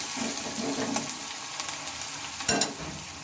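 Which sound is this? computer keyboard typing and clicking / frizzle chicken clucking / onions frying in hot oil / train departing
onions frying in hot oil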